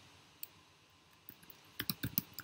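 Code being typed on a computer keyboard, a couple of scattered soft clicks and then a quick run of sharper keystrokes near the end, close and fairly quiet with no voices.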